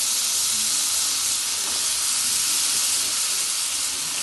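Mixed vegetables hit a hot pan of tomatoes for a Bengali pure-veg curry, giving a steady, loud, even hiss of sizzling that holds without a break and with no voices.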